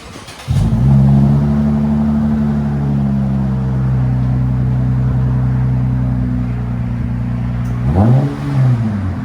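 A Lexus IS 250 with a 2.5L engine and both exhaust resonators cut off revs hard after a brief pause, holding a loud deep droning exhaust note, then blipping up and dropping back again near the end.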